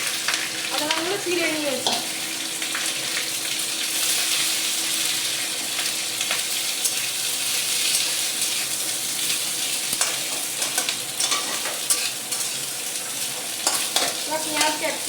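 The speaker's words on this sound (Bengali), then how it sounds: "পেঁয়াজ, ক্যাপসিকাম, কাঁচা লঙ্কাগুলোই ভালো করে ভেজে নেব।" Onion, capsicum and green chillies fry in hot oil for chilli chicken, a steady loud sizzle with occasional stirring scrapes, and a brief voice is heard near the start.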